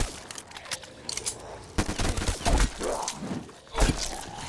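Rapid bursts of gunfire from a Call of Duty Black Ops 3 zombies match, loud and close, firing in uneven clusters with short pauses between volleys and no talking.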